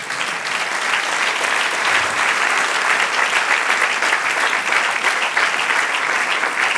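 A church congregation claps together in sustained, dense applause, loud and even from start to finish without pauses, with no voice rising above it.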